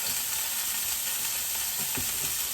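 Garlic sizzles in a hot pan during a bistro steak dinner, a steady, dense frying hiss that holds close and even throughout, with a few soft stirring knocks near the end.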